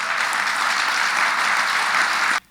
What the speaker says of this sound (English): Let's give Chairman Hogan a big round of applause.